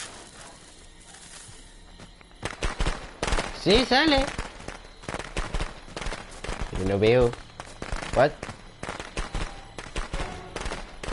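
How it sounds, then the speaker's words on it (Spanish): Video-game fireworks animation in Friday the 13th, a rapid crackling burst of popping explosions mixed with whistling streaks, loud and close, while a player talks over it. "A ver si sale la animación de los fuegos artificiales."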